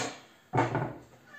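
A cat gives a single short meow close by in a kitchen while a marble cake is being unmoulded, a brief clear call rising out of near silence.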